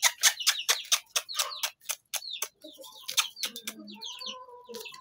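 Sasso breed chickens cluck and chirp close by in a poultry farm, a fast run of sharp calls that thins into softer, scattered clucks toward the end, with no talking.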